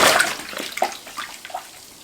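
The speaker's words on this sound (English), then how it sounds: "Dunking is basically just a term that we use for giving all leather Coach bags a bath." A leather Coach bag is dunked in lukewarm soapy water, opening with a loud splashing slosh that settles into softer scattered drips and gurgles nearby.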